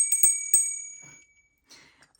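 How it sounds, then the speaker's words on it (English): A small smiley-face bell is struck a few times, its bright metallic ring sustaining briefly before decaying into near silence, followed by faint handling noise. "we'll start by ringing the bell. We have smiley face bell."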